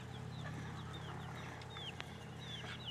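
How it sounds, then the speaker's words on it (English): Chickens clucking and squawking in short, scattered calls over a steady low farmyard hum, a busy flock heard at moderate distance with no one speaking. "Here they come. The chicken stampede."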